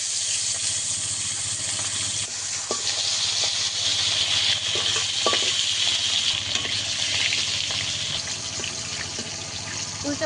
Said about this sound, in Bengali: কড়া গরম হয়ে গেছে, এক একে মাছগুলো দিয়ে দেবো।